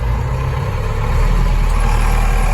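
A YuMZ tractor engine idles steadily with a deep, throbbing low rumble, close and continuous.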